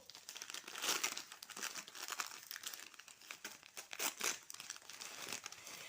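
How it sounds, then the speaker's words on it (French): Newspaper wrapping crinkled and torn open while unpacking a package of succulent plants, quiet close crumpling and rustling in irregular bursts with no talk. "Alors c'est emballé dans du papier journal."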